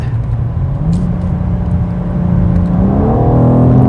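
A 2022 BMW M4 Competition xDrive with 510 horsepower accelerates hard from inside the car, its engine note building steadily to a louder, rising roar near the end, with no talking over it.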